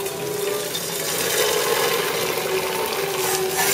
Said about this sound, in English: I'm going to just put the boiling water on this